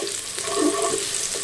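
Garlic goes into golden onions frying in a pan, bringing a steady close sizzle with a brief swell as it lands.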